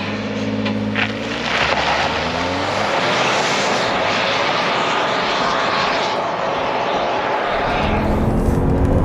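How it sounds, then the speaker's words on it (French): A 2021 Ford F-150 PowerBoost hybrid pickup accelerating hard, with rising engine tones at first that blend into a loud, steady roar of engine, road and wind noise lasting several seconds, with no talking. "Côté accélération, on a le moteur Power Boost qui vient de donner beaucoup de"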